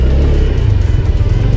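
The 110 cc engine of a Honda Genio scooter drones loudly and closely during acceleration, a steady low rumble with faint wind noise during the ride.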